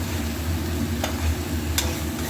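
Fish coated with ginger paste sautés in a little oil with a steady, close sizzle, broken by two short scraping stirs.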